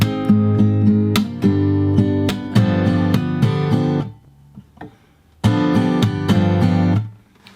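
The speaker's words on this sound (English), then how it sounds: "On the 3rd strum, you want to kind of give it a bit of a slap" Percussive slaps hit the strings during fingerstyle guitar strumming on a tune, sharp accented knocks among strummed chords in a steady rhythm, with a short pause before the pattern resumes, close and loud with no talk.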